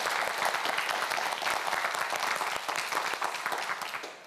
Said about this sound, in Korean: 큰 박수 보내주세요